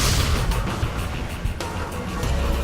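A weapon in Destiny: Rise of Iron fires several tracking bolts at once, giving a dense, rumbling barrage of low booms with sharp cracks near the middle and end, loud and continuous.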